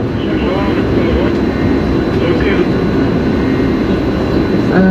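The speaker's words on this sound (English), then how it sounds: "There's the German train going over leaving the central station." A loud, steady rumble of a German ICE high-speed train passing near Amsterdam Central Station dominates, heard from a canal boat, with a constant low roar and faint voices in the background.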